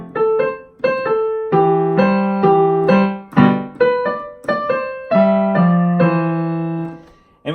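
A piano plays a short, simple melody of repeated notes in a steady rhythm of quick and longer notes, clear and close, with no talking.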